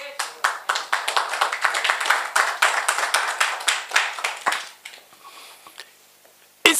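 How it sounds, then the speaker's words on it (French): A church congregation claps and applauds in praise of the Lord, a dense, lively burst of many hands that carries strongly for several seconds, then thins out and fades to near silence before a brief final sound. "Est-ce qu'on peut acclamer le Seigneur?"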